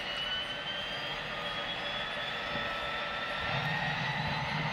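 Aircraft engines spooling up in the X-Plane 10 flight simulator, a steady rising turbine whine with a low rumble that swells slightly toward the end, heard alone without talk.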